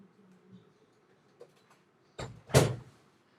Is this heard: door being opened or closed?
yes